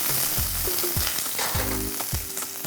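Onions and corn sizzle in a hot pan as squash blossom stuffing, a steady loud frying hiss broken by a few low thumps of stirring, with no talking.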